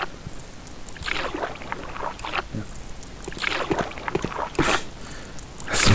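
A rowboat moving across water in the video game Harveys neue Augen, with gentle sloshing, lapping splashes and rhythmic oar strokes in a steady outdoor ambience, moderately loud.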